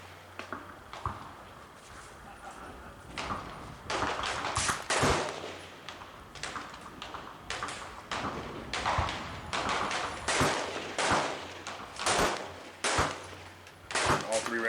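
M1A rifle firing at a steel plate 300 yards away, with a string of loud, sharp reports spread across the stretch, some followed by faint distant impacts, under light talk.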